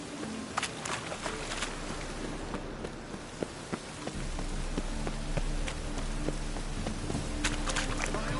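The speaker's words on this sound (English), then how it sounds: "Rain again." Rain falls steadily in The Witcher 3: Wild Hunt, a soft continuous patter with scattered drips and occasional light footsteps.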